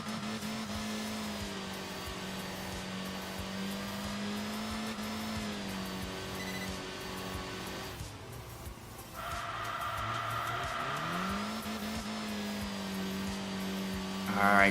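Engine of a small CVT-powered Colt in the Enthusia Professional Racing game, a steady droning whine with smooth pitch sweeps as the revs rise and settle, moderately loud and continuous with no talking.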